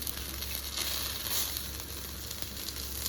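Guntapoganalu fry in a pan, giving a steady, faint oil sizzle with soft crackling throughout and no voices.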